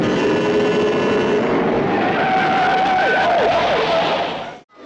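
A mid-1970s movie car chase from Freebie and the Bean roars loudly, with engines revving at high speed and tires squealing in wavering skids before the noise cuts off abruptly.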